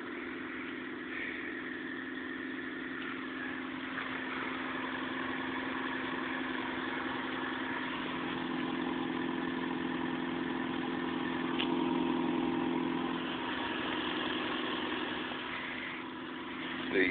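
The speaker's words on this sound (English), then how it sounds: "Cold start on a Nissan Altima in the snow." A 1996 Nissan Altima idles steadily after a cold start in snow, its even engine hum holding a constant low drone throughout with a slight rise in level near the end.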